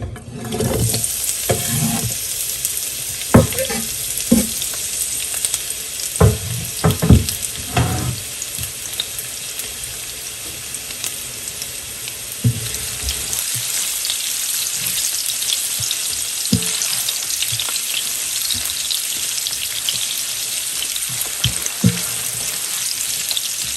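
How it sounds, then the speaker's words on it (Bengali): Onions sizzle in hot oil in a pan for a coral fish curry, a steady high hiss running throughout, with several clattering stirs and scrapes in the first half and quieter occasional knocks later. "তেলটাও গরম হয়ে গিয়েছে এখন দিয়ে দিব পেঁয়াজ"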